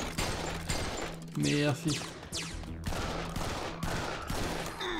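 Pistol shots in Serious Sam's Bogus Detour, a run of loud single cracks at an uneven pace mixed with game effects and a rising whoosh, while someone briefly speaks French.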